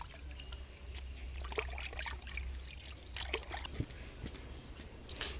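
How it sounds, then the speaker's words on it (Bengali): Bottle gourd leaves being washed by hand in pond water, with steady low trickling and splashing throughout and occasional sharper drips and sloshes close by. "তারপরে এগুলোকে পুকুরের জল থেকে ধুয়ে নিয়ে আমি কলের জলে ধুয়ে নেব।"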